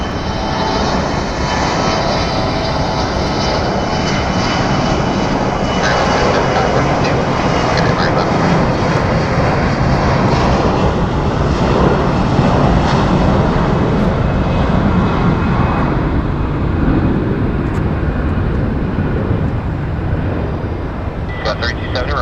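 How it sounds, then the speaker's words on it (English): Mitsubishi CRJ regional jet on a Delta Connection flight bound for Salt Lake City, roaring steadily and loudly at Phoenix Sky Harbor Airport as a continuous broadband jet engine rumble that lasts throughout. "This is a Delta connection 3034 going to Salt Lake City on a Mitsubishi CRJ."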